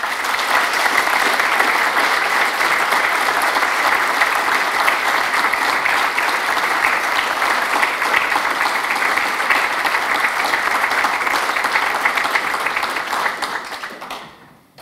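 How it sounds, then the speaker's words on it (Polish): A large audience at a congress claps in sustained, dense applause that holds steady and loud for a long stretch before fading away at the end. "Więc dla nich wielkie oklaski."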